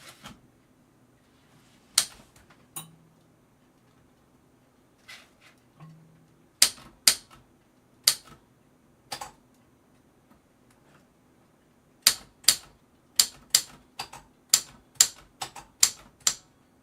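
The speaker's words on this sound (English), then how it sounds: "you have the typewriter in the basement out. That's what's out. Yeah. Because we type each other messages on it." A typewriter in a basement being typed on, with sharp mechanical key strikes scattered irregularly at first and then coming in a quicker run of rhythmic clacks, each loud and close against a faint low hum.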